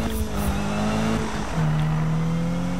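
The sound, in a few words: car engine roaring in Need for Speed video game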